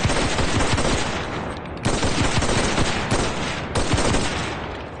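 Semi-automatic rifle fire in the World War II shooter Enlisted, a few sharp shots spaced apart over a steady roar of battlefield din and echoing gunfire.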